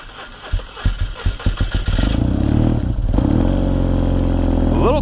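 A cold 1989 BMW R100G/S 980cc flat-twin with the choke on cranks and catches after a few chugging pulses, then settles into a loud, steady, close-up idle.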